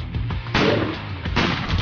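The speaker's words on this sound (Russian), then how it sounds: "Мощный выстрел." Two heavy, booming gunshots from the Headhunter Rifle in the video game War Heroes, each a loud sharp blast with a short decaying tail, spaced under a second apart.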